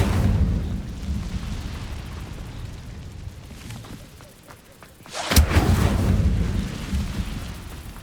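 A fire spell cast in Hogwarts Legacy, heavy rumbling blasts and roaring fire, easing into a quieter stretch broken by a few crackles, then a sharp loud burst followed by a sustained roar.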